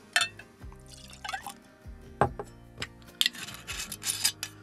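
Slane Irish whiskey, special edition, is poured into a glass, giving faint splashy liquid trickles and glassy clinks and rubs in short, scattered bursts, quiet and close.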